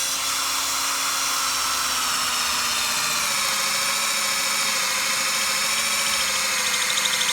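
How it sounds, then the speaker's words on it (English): A drill bores a tap hole into a maple tree, a steady, loud, high whine sustained evenly throughout at constant pressure, close by and alone without any talk. "notice that I'm drilling low, I'm drilling slightly on an angle going up"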